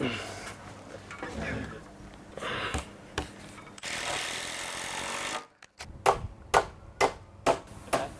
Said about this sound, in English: So I've put 22 on the chop saw to cut this plumb cut off